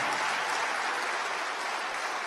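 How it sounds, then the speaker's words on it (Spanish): A church congregation claps for the Lord in a dense, even burst of applause that fills the whole moment, loud and close, with no voices standing out. "Démosle palmas al Señor"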